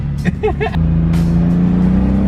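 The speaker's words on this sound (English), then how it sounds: "we're about to drive this 2JZ" A turbocharged 2JZ engine swapped into a BMW E36 M3 drift build pulls away, a steady droning engine note rising under brief voices at the start, close and fairly loud.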